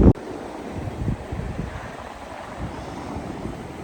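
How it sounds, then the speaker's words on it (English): Strong winter wind on an ocean beach buffets the microphone in a steady roar with gusty thumps, mixed with waves and surf, loud and constant throughout. "it has been excessively windy and there's a big winter storm further north"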